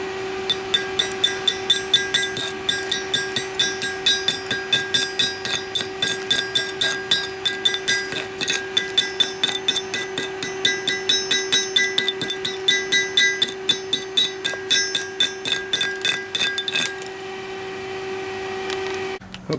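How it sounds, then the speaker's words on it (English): Rapid, steady hammer blows on a steel anvil being repaired, dozens of sharp ringing metallic strikes in even rhythm with a sustained ringing tone underneath, stopping near the end. "then I'm going to hit it with the hammer."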